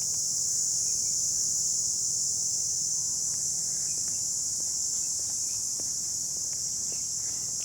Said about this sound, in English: Now you can hear the insects.